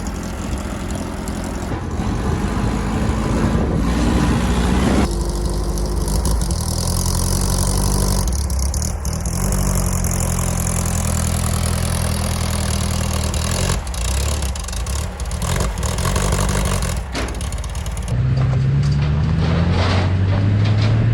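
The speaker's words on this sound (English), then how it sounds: "it's nice to see this thing on the ground and moving under its own power again." An old VW rail buggy runs under its own power outdoors, its engine droning loud and steady throughout with shifts in pitch and load as it moves along.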